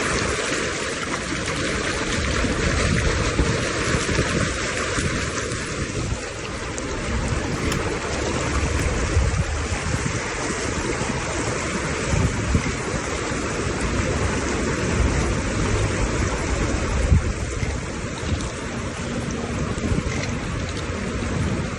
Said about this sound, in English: out of nowhere, we're going through all this water.